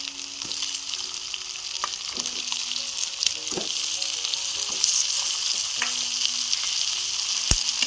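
Capsicum chillies frying in a pan with roasted onion and tomato give a steady close sizzle, with scattered clicks and scrapes of stirring over about eight seconds, no voices.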